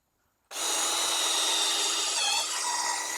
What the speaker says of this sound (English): So I'm going to drill